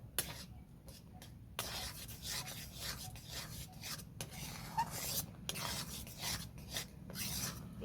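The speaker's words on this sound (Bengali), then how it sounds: "ভালো করে নাড়াচাড়া করে দুধের সাথে মিক্স করে নেব যাতে না ডেলা ডেলা থাকে" Semolina is stirred into milk in a bowl, a close, soft scraping and rubbing that comes in repeated strokes with short pauses between them.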